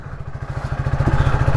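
A motorcycle fitted with a changed silencer runs steadily, its low, throbbing exhaust pulses close and continuous, with the beat slightly rising in loudness toward the end.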